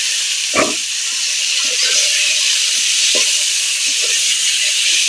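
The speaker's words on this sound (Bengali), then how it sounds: "কোঁড়ায় তেল দিয়ে দিয়েছি তো হোঁপাটা কোঁড়ায় দিয়ে দিলাম" Jackfruit-seed hopa frying in hot oil in a wok gives a steady, loud sizzle and hiss throughout, with a few soft knocks of stirring over the top.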